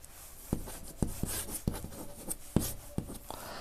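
Chalk or marker writing on a classroom board during a maths lesson, a run of faint scratchy strokes and sharp taps at an irregular pace, close but quiet with no voice.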